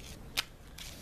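A deck of cards shuffled once by hand, a short crisp riffle burst that stands out against a quiet indoor background with no talking.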